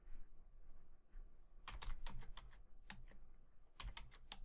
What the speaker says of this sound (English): If I were to type in some invalid Python here